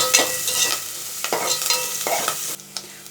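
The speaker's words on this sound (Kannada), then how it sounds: "ಆನಿಯನ್ನ ಸ್ವಲ್ಪ ಚೆನ್ನಾಗಿ ಫ್ರೈ ಮಾಡ್ಕೊಂಬಿಡೋಣ" Onion and curry leaves frying in a pan, a close crackling sizzle broken by several scraping stirs of a spatula, with quieter hissing between strokes.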